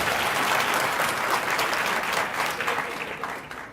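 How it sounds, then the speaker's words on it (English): An audience at a Namibian accountants' institute event claps in a thick burst of applause, loud at first and then thinning slightly toward the end. "So, yeah man, clap Anna."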